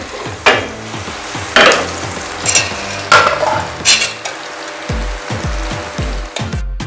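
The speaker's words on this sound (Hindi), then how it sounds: "एक 2 मिनट बस इनको फ्राई करना है, ज़्यादा डार्क कलर नहीं करना।" Tadka spices sizzle and crackle in hot oil while a spoon scrapes and stirs the pan in repeated strokes, close and fairly loud.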